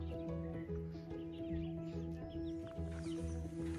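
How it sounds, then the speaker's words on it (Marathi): Chickens cluck repeatedly in rhythmic bursts at a village farmyard in the morning, close and loud above a low steady background, with no talk. "ते कोंबडे वगैरे"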